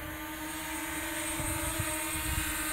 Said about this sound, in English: The drone makes a good noise, doesn't it? It's like a swarm of bees.